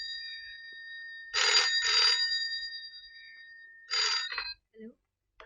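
A telephone rings with electronic trilling bursts, two close together and then a third cut short, loud and near in a quiet room, followed by a brief voice.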